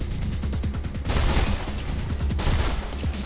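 Rapid machine gun fire in Mirror's Edge, a dense, continuous stream of loud shots with rattling bursts that swell around the one- and two-and-a-half-second marks.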